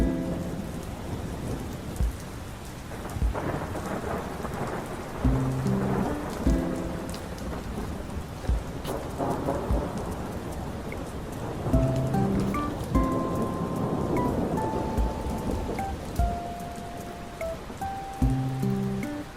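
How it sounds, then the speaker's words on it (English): Steady heavy rain from a hail thunderstorm, with repeated thunder claps and rumbles rolling through the downpour, loud and close. "Yesterday there was a hail thunderstorm"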